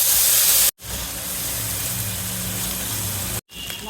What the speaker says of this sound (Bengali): মাছটা ভাজে নিতেছি